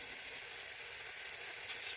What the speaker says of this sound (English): spray a little WD on there